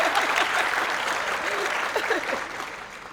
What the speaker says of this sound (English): I think she deserves an extra round of applause.